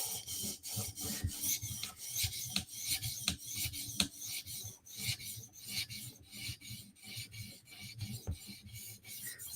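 Knife blade stroked across a 400 grit whetstone, steady rhythmic rasping scrapes in quick repeated strokes, close and fairly quiet, with no voices.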